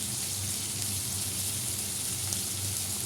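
Cumin seeds and shrimp sizzling in hot oil, a faint, even hiss of frying with a soft low hum underneath, continuous and without speech.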